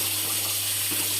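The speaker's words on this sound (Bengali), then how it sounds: "মাংসের ঝোলে পানি দিয়ে দিলাম" Water pours steadily into a pot of meat curry, a continuous hissing gush that lasts the whole moment without a break.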